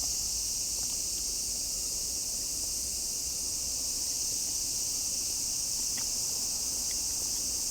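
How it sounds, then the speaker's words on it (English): Cicadas drone loudly and steadily on a summer day in Tokyo's Kichijoji, a dense continuous high buzz filling the whole stretch with no pauses, a few faint knocks beneath. "God, the cicadas are loud."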